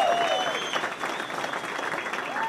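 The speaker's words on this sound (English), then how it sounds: "Give yourselves an applause." A rally crowd applauding outdoors in the rain, a steady, dense wash of clapping that lasts a couple of seconds, with some cheering and a voice or two mixed in.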